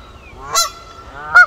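Geese honk beside a pond, giving two loud, separate calls about a second apart over a quiet background.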